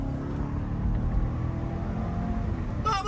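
Corvette sports car with a manual gearbox and a 6.4-litre engine, its exhaust rumbling steadily and close by for about three seconds, with a brief rise in revs near the end.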